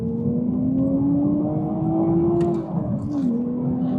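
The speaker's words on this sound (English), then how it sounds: "that B58 motor is beautiful. It just sounds glorious. Straight six, single turbo setup" A BMW Z4 M40i roadster with its B58 single-turbo straight-six pulls steadily under acceleration, a smooth droning tone rising gradually, dipping briefly at a shift, then climbing again, heard from inside the car.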